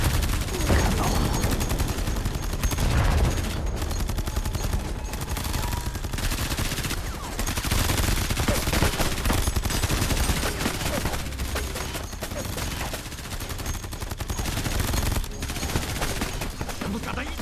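Intense gunfire and explosions in a Chinese drama battle scene aboard a ship: sustained dense rapid shooting and blasts, loud and continuous, with shouted voices buried in the din.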